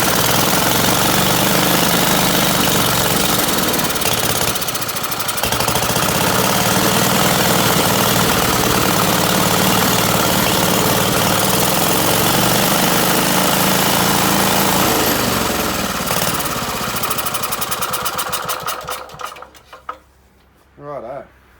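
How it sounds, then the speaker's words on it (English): A vintage WING stationary engine runs loud and close, with a dense, continuous knocking clatter that holds steady and then sputters and dies near the end. "Righto. Well, it runs."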